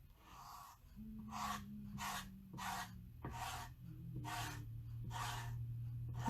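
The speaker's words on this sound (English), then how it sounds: "I'm going to lay down the paste and then come back and clean up any excess." Chalk paste is spread over a stencil in repeated rhythmic strokes, about eight soft raspy scraping swipes that are steady and quiet, with a faint low hum underneath.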